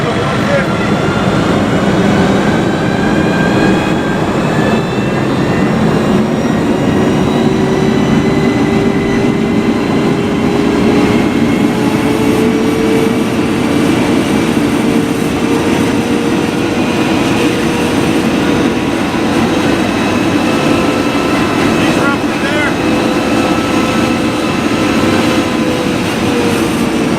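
A locomotive engine throttles up, a loud continuous diesel drone whose pitch slowly rises over the long stretch. The rumble is close and steady, with faint hissing above it.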